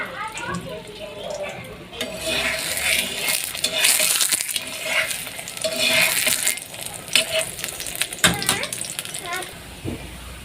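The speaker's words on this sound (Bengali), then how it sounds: "আর এই যে অল্প তেলে আমি ভাজবো পরোটাটা" Aloo paratha frying in a little oil in a pan, a soft steady sizzle with scraping and stirring clinks, fairly close and moderately loud, with no speech over it.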